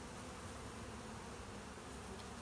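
Dense swarm of honeybees buzzing inside a car door, a constant loud droning hum with no pauses.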